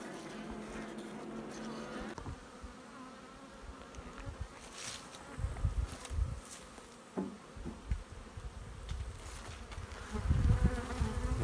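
Honeybees buzz close by at a log hive, a wavering hum with swells and dips, louder bursts near the end, and a faint background murmur.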